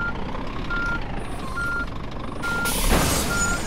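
A truck reverses in the On the Road driving simulator, its backup alarm giving evenly spaced electronic beeps over steady engine rumble, with a brief hiss near the end.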